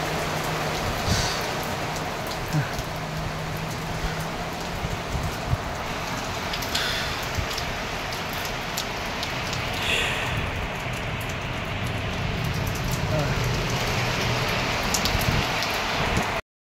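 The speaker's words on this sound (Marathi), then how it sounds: "बाई बहुतेक मोठी सर आहे." A heavy rain shower pours down, a dense, steady hiss and patter of drops on surfaces that holds at an even level throughout, with no voices.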